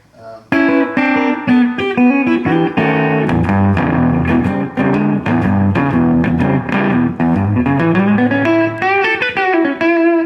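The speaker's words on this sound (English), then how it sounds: "This is like a rockabilly sound I made up here." An electric guitar plays a bright, twangy rockabilly-style riff through a Line 6 Spider III 75 amp, with quick picked notes and slapback-like echo, loud and continuous.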